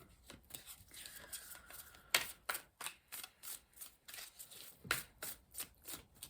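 Tarot cards being shuffled by hand in short riffling bursts, a rapid rustle-and-flutter pattern repeated around a dozen times, close and quiet, with no speech.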